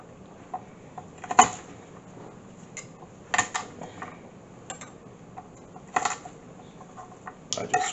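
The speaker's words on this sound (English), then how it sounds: "we'll get our garlic in there first and give that a chop" Knife chopping garlic on a board for a paste, a few sharp scattered knocks of the blade with quiet gaps between them, close and fairly crisp.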